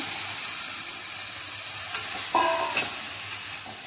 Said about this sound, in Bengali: লাউ দিয়ে একটু নেড়ে ছেড়ে নেবো।